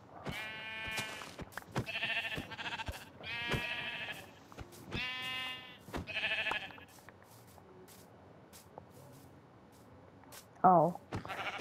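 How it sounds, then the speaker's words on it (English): Several loud sheep bleats from a video game come in a rhythmic series up close, then quiet, with a short, higher bleat near the end. "Sheep City over here."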